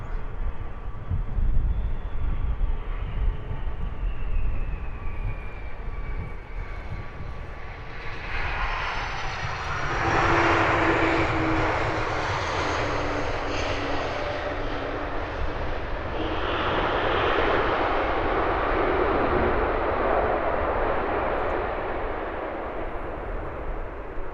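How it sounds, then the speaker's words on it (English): An Airbus A300 airliner's jet engines roar at London Luton Airport in early morning, a loud sustained rumble that swells as the plane passes close by, then holds a broad roar, with no talk. "Beautiful colours popping on that lovely Airbus A300."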